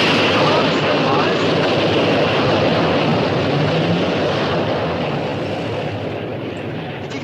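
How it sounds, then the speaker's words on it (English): An airplane passes overhead at a military training ground, its steady, loud engine roar filling everything and then slowly fading toward the end. "I'm afraid that airplane broke my concentration just a little bit."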